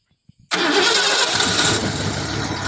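A big-block car engine cranks and catches abruptly, then holds a loud, rough near-idle for a couple of seconds without fuel hooked up, close by, with faint talk before it starts.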